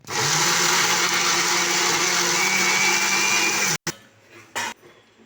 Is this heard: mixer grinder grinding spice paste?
yes